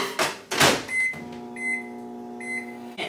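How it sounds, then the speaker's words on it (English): A microwave oven set to heat diced steak: the door shuts with a clunk, keypad beeps sound, and then the steady hum of the oven starts, all close and with no talking. "I'm going to microwave this for a minute and a half."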